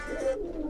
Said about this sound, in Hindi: ये देखिए दोस्तों, ये इनके कबूतर।